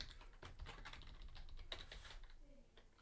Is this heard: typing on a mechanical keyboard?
yes